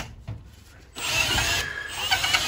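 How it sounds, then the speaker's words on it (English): A power drill fitted with a pilot bit bores an exhaust hole during an oil-to-natural-gas furnace and water heater conversion, starting after a brief pause and then whining steadily and loudly up close. "So we're going to drill a hole with a pilot bit for our exhaust."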